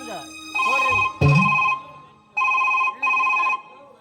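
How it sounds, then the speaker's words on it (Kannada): An old-style telephone bell rings in bursts with short pauses between them. It sounds close and loud, and one bell burst is broken by a low thump. "ring a phone"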